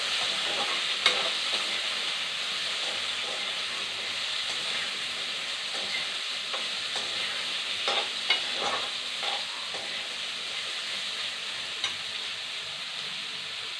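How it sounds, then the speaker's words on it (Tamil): Yellow pumpkin pieces sautéing in a hot pan, a steady close sizzle and hiss with light scraping stirs and occasional clinks running throughout, no voices. "நல்லா வதக்க வேண்டியிருக்கேன்."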